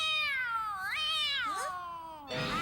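A person imitates a cat in a Robotech animated episode, giving a drawn-out, sliding meow that rises and falls, followed by a second shorter yowl, close and clear with no other talk.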